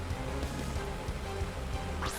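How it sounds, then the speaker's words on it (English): Rain falls in Pokemon Shining Pearl on Route 210 as a steady, dense hiss of game rain with a low rumbling undertone, continuous and fairly loud with no talk. "I don't like the fact that it's raining."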